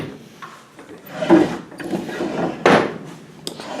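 Wooden drawers sliding open and shut at close range, a few loud scraping thuds and rubbing slides in quick succession inside a room, with no voices.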